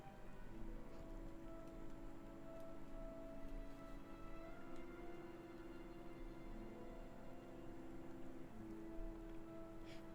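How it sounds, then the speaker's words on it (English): Rain falls steadily in the medieval role-playing game Kingdom Come: Deliverance, a soft, even patter with a low hum beneath and no speech. "I'm being washed by the rain"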